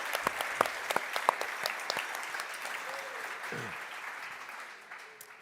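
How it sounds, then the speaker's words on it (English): Audience applause at an award ceremony for energy start-ups in Berlin, a dense steady clapping that carries through the whole stretch at moderate loudness, with a few sharper individual claps standing out near the start. "Very warm applause for all of you coming to Berlin today."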